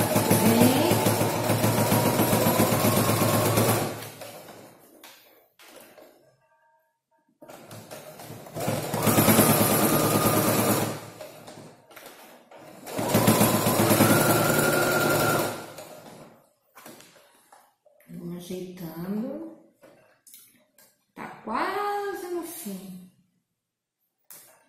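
A sewing machine stitches a curved bias binding on a multifunction wallet, running in three loud, sustained bursts of fast mechanical whirring separated by pauses, followed by two shorter bursts with a rising tone.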